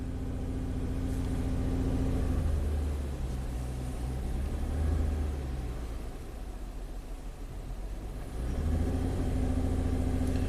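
A Ford Fusion engine idles and is put under load with a hard misfire, giving a deep, uneven, pulsing drone that sags and swells, with no one talking.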